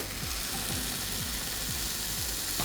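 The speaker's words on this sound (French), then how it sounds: "quand ça arrête de grésiller, normalement c'est prêt" A burger cooks inside a UFO burger press heated to 200 degrees, giving a steady close sizzle with a faint rhythmic clicking underneath.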